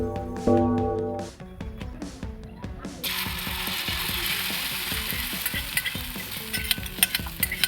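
A spoon scrapes and stirs egg masala with chili and pepper powder in a hot pan, in quick rhythmic strokes over a steady sizzle, close and alone.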